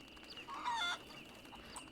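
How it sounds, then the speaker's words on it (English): Chickens in the WildRP Red Dead game cluck briefly and fairly close after being spooked, a short burst of bird calls over a steady low game ambience. "we can spook the chickens so that they move"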